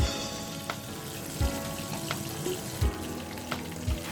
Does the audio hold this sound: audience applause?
no